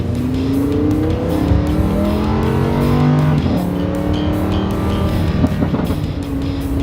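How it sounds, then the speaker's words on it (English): Lamborghini Huracan LP 610-4 revving and downshifting, the engine note sweeping up and down in loud harmonic glides while the exhaust crackles and pops in sharp bursts near the end, with no talking. "Great little crackle of the exhaust when you downshift"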